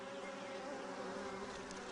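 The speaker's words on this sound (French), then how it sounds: "Une abeille butineuse consacre, au cours de sa vie, des milliers d'heures de vol à récolter ce précieux liquide." Honeybees foraging for nectar give a steady, dense buzzing hum of wingbeats that holds evenly close by for the whole moment, with no voices.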